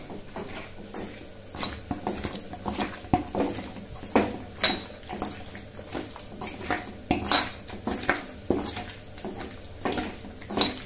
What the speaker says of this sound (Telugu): ఇప్పుడు ఈ పొడులన్నీ చికెన్ ముక్కకు మంచిగా పట్టేలా కలుపుకోవాలి.